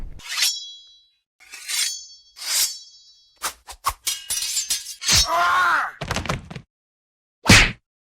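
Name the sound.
movie sword clanging sound effect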